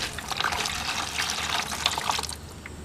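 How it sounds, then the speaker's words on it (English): Water drains and trickles out of the drain hole of a window air conditioner after a wire unclogs it, a steady near splashing stream running alone with no talk. "you can see the water pouring right out"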